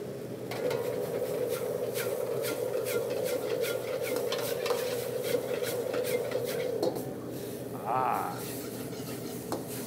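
Asian noodles stir-frying with sauce in a pan give a steady, continuous sizzle with scraping and stirring clatter throughout, plus a brief brighter clink near the end.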